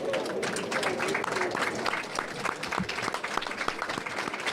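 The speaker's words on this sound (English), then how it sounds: "Crowd giving a nice round of applause to the" Spectators at a provincial under-16 curling tournament give a sustained round of applause, dense rapid clapping from many hands at a moderate distance, holding steady throughout.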